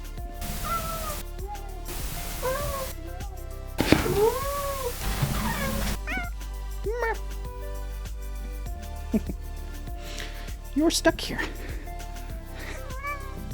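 A cat meowing repeatedly in short, rising cries, close by, while a person talks in between.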